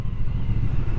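A Triumph Bonneville Speedmaster motorcycle pulls away from traffic lights, its engine a loud, steady low rumble close by, with no voices over it.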